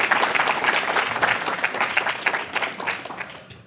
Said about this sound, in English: Please, let's give our speaker a round of applause.